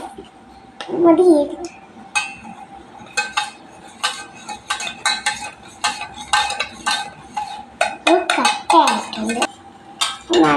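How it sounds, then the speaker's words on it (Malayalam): A spoon stirs in a pot, giving irregular bursts of metallic scraping and clinking over about ten seconds, with a voice talking between the strokes. "നന്നായിട്ട് ഇളക്കി കിടക്കാം"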